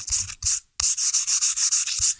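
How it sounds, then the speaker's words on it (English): Sandpaper rubbing through a gloss medium layer on a painting, a rapid series of close, rhythmic scratchy strokes with one short pause partway through. "I'm sanding through the gloss medium a little"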